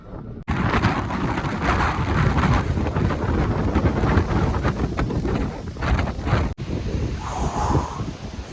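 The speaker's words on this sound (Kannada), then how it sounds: "ಗಾಳಿ ಹಂಗೆ ತಗೊಂಡೋಯ್ತಿದೆ ನನ್ನನ್ನ" Strong wind buffets the microphone on a hilltop in Coorg, a loud, continuous roaring rush with gusty swells that drops out briefly twice, no voices heard.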